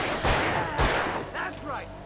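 Two heavy gunshots from Alan Wake Remastered ring out in quick succession, loud and close, followed by fainter clatter and game sounds.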